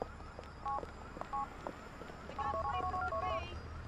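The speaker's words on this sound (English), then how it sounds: "pra que ligar pro Peck?" Several short electronic dial tones beep in sequence, first a few spaced presses, then a quick run of tones, over a faint hum.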